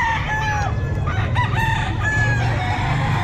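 Roosters crow loudly and repeatedly among other chickens at the Bocaue pet market, several overlapping calls rising and falling close by over a busy market background.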